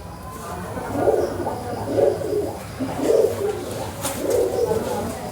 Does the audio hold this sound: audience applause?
no